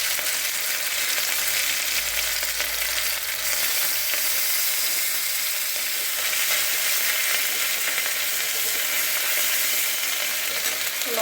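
Ground cumin and ginger masala paste fries in a pan with a continuous, close, bright sizzle and fine crackling, staying fairly even throughout with no voices.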